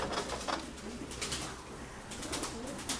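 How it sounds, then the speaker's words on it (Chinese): Soft, repeated cooing from a pigeon sits over a steady background hiss, faint and somewhat distant, with a few brief louder calls. "上面还有个鸽子"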